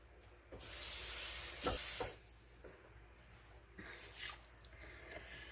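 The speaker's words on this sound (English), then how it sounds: "I'm going to add just a little bit of water to this" Water poured into a pan of rice sautéing with sofrito, garlic and onion gives a sudden loud hiss and sizzle that fades into quieter bubbling and crackling, with a second softer flare later.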